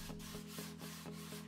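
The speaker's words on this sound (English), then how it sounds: "You can see I'm sanding the edges here, trying to sand some areas, make things a little bit smoother" The edges of a scratch-built Warhammer 40k Eldar Craftworld terrain piece are sanded in steady, rhythmic back-and-forth rubbing strokes about every half second, close and even, over a low continuous tonal hum.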